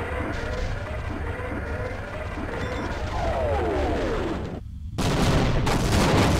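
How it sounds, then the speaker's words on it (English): Sustained bursts of gunfire from the 1998 video game Half-Life rattle on for several seconds, briefly cut out, then return dense and loud. "There should be more gunfire."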